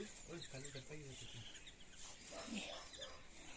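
Birds cluck and call softly to their flock in short bursts, quiet and somewhat distant, at a village before sunrise, with a voice speaking briefly near the start.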